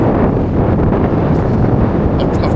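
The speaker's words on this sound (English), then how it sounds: "It's windy, you can probably hear." Wind buffets a microphone outdoors at Great Yarmouth, producing a loud, continuous low roar and rumble that dominates throughout with no clear talking.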